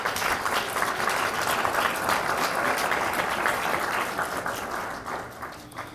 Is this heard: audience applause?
yes